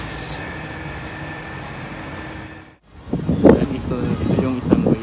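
A Taipei MRT metro train passing near an underpass, a steady rumbling roar that drops out briefly, then gives way to nearby people talking over street noise.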